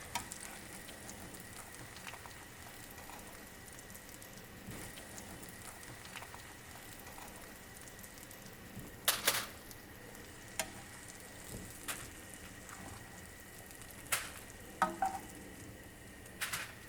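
Eggplant slices fry in a pan with a steady soft sizzle and crackle, broken by a few sharp clatters and pops, no voices.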